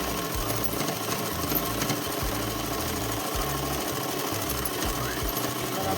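Sewing machine stitching a fitted dress seam, its rhythmic mechanical chatter running close and continuous, with no voice over it.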